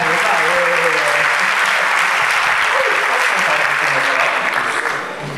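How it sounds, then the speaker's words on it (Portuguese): Loud applause and cheering from a live audience at a comic hypnosis show, a dense wash of clapping that holds steady then eases slightly at the end, with some voices mixed in. "Uma salva de palmas pra ele"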